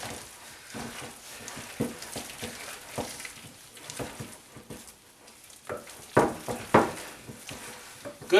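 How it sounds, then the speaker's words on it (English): Eggs stirred by hand into thick cream puff dough in a bowl: close, wet slapping and scraping with irregular spoon knocks, fairly quiet, with a few sharper clacks near the end. "just stir and stir and stir until it's all incorporated"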